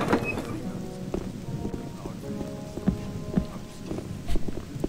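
Rain falls steadily in the game Gothic, a soft constant patter at low level broken by a few faint dull thumps, with a voice murmuring now and then.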